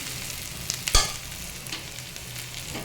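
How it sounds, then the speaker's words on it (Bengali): Nigella seeds dropped into hot oil for tempering: a close, sharp crackling burst about a second in settles into a steady, fine sizzle that continues throughout, with no one speaking. "আর এদিকে তেলে কালো জিরে দিয়ে দিলাম ফোড়ন।"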